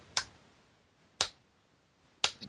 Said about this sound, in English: Let me do a golf clap